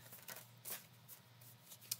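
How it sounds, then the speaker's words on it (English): A deck of tarot cards being shuffled, soft papery riffles and slides in short bursts, faint and close, with no talking. "Let's shuffle them a little bit."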